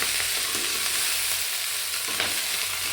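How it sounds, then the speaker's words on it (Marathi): Loud, continuous sizzling of fenugreek greens with moong dal frying in a pan, with scraping stirs breaking through at close range. "भाजी अशी छान मिसळून घ्यायची भाजी"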